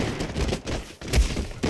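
Gunfire rings out in Red Dead Redemption 2, several loud cracking shots in quick bursts with booming tails that overlap one another, close and dense across the short stretch.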